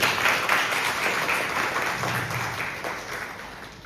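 An audience applauds steadily at a youth parliament event at S.M.J.N. P.G. College, Haridwar, dense clapping filling the space and slowly tapering off near the end.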